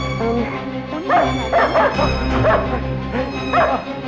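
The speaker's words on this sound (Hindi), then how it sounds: "टोनी भौंक रहा था ना?" A dog barks and yips repeatedly at close range, short sharp calls spaced through the clip over a constant low hum.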